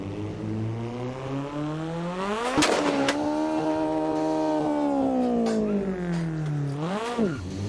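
A Mitsubishi Lancer Evo engine in the Assetto Corsa racing game revs loud and close, its pitch sweeping up, holding high, dipping briefly, then climbing again, with short sharp pops between.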